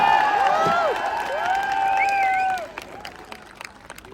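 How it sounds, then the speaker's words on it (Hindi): An audience claps at a Hindi poetry recital (kavi sammelan) at Bhilwara Mahotsav 2025: a dense crowd applause with cheers and whistles, loud at first, then thinning out after about two and a half seconds. "ताली बजाओ"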